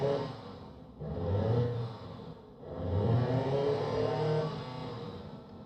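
A simulated engine built in a collaborative engine design program revs up and eases off in repeated surges, with the pitch rising then dropping sharply at each gear change, steady and fairly loud, with no talking.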